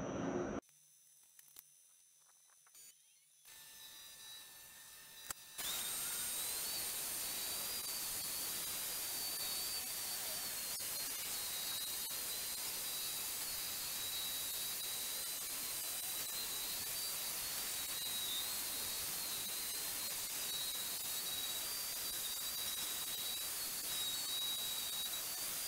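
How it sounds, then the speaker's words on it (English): A three-flute high-speed steel end mill cutting into a Spitfire bearing race, a steady, loud hiss with a high whine that starts after a few seconds of quiet clicks and carries on unbroken. "I switched over to a three-flute, just a high-speed steel end mill, because this has a longer cut length"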